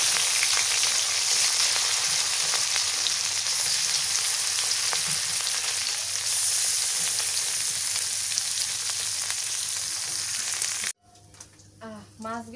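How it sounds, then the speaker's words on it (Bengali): River fish, some full of roe, frying in hot oil, a steady loud sizzle and crackle that fills most of the stretch, then cuts off abruptly near the end, leaving a few faint kitchen noises. "মাছগুলা সবই ভাজা হয়ে গেল।"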